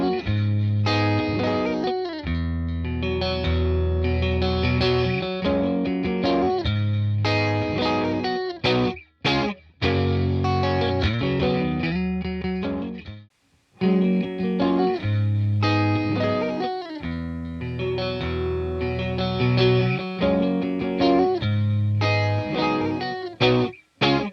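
Clean electric guitar tones played through a Valeton GP-5 amp modeler, a steady loud stream of picked chords and notes with brief pauses, carrying a shimmery effected sheen and no voices.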